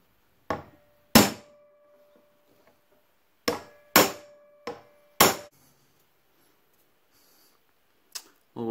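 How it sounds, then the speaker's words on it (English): Hammer blows strike a Honda Harmony lawn mower being repaired, seven sharp metallic hits in irregular clusters with ringing decay, close and loud with quiet gaps between. "Hammer."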